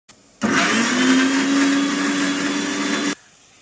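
A mixer grinder pureeing tomatoes whirs loudly and steadily for nearly three seconds, starting and stopping abruptly, with a strained motor hum beneath the blending.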